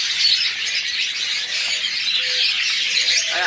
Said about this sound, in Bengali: এখানে বেশ কিছু ফিন্স পাখি রয়েছে